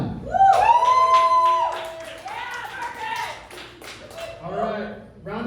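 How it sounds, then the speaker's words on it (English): A comedy show audience claps and cheers for Elizabeth, a loud whoop opening a few seconds of scattered clapping and shouts that taper off unevenly. "I want a round of applause."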